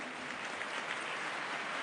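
Brief burst of audience applause for Dahlan Iskan in a television talk-show studio, a quiet, muffled, continuous patter of many hands lasting under two seconds.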